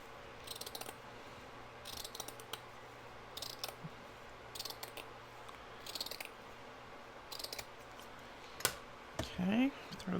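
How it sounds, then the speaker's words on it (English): Scissors snip through the sewn edge of a burlap strip, a series of short crisp cuts spaced through the clip, close and fairly quiet, with a brief voice sound near the end. "I'm going to cut this edge off that's sewn here"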